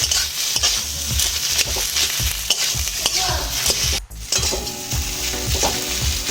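Potato and pea paratha filling fries in a pan with turmeric, a spatula scraping and stirring in a quick repeated rhythm over a continuous close sizzle, with a brief pause midway before stirring resumes.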